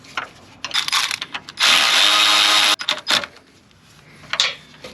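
A 13 mm ratchet tightens trailer hitch bolts on a BMW G05, giving close, quick clicking bursts with a louder continuous stretch in the middle.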